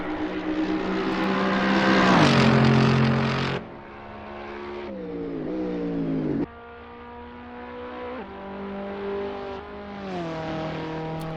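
A beginner-friendly race car in Assetto Corsa laps the Monza circuit, its engine loud and close, revving up through the gears with abrupt drops at each shift before climbing again.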